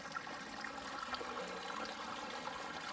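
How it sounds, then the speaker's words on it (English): Faint, steady rush of water flowing into a hole at the headwaters of an underground creek in the Pecos Wilderness, a continuous trickling wash with no talking. "Water is flowing into this hole right here"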